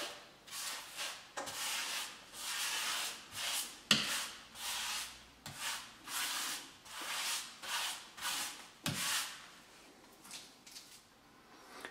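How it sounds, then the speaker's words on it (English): Rubber grout float sweeps grout across wall or floor tiles in repeated strokes, a soft gritty scraping that rises and falls about once a second, fairly quiet and close, with no voices. "just spread it all over the tiles"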